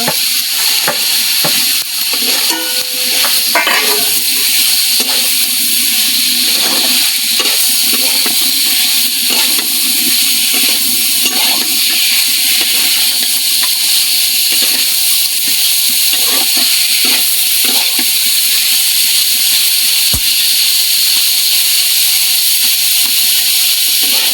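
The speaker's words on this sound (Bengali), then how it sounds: "এখন এখানে কোনো পানি দিব না শুধু এই কাঁকড়াগুলো ভাজা" Crabs fry in thick spice paste in a pan without water, producing a continuous bright hissing sizzle with scattered stirring scrapes and clicks, close and steady throughout.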